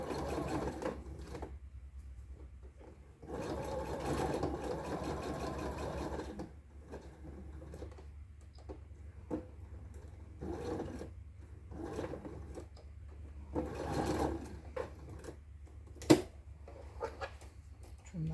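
A sewing machine stitches along tape while boxing a corner, running in several bursts of whirring needle motion with quiet pauses between, backstitching in reverse and then sewing forward, close and moderately loud with no talk.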